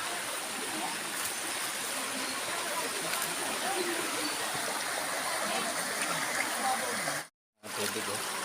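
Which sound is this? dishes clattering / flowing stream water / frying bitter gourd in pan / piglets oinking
flowing stream water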